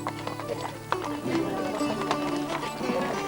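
Horse hooves clip-clop at a brisk, uneven pace during a fox hunt ride in Ireland, the rhythmic knocks close and clear with faint voices in the background.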